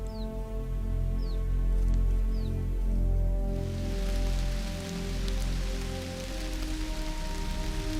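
Heavy rain pouring down in a summer forest, a steady dense patter that continues throughout beneath sustained musical tones.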